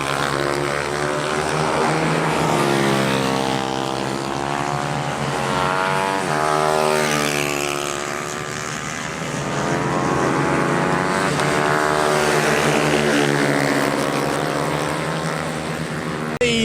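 Pit bikes in the 140 class racing on a clay track during the final race of a championship weekend, a loud continuous high-revving engine whine that rises and falls in pitch as bikes pass, sustained throughout with no talking.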